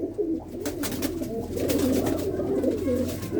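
Pigeons cooing nearby, soft repeated throaty coos in a continuous rhythm, close and moderately loud, with no speech over them.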